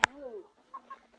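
Chickens at a hillside village in Laos give a few short clucking calls, the first a sharp close burst followed by softer, scattered clucks that fade into near silence.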